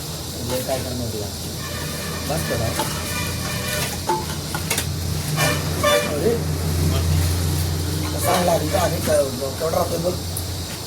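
Onion frying in masala for a Kolhapuri village-style chicken dish, a steady loud sizzle and hiss running throughout with occasional stirring scrapes, while people talk over it.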